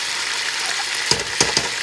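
Canned tomato paste sizzles in a frying pan, a steady bright hiss punctuated by a few short clinks of a utensil stirring.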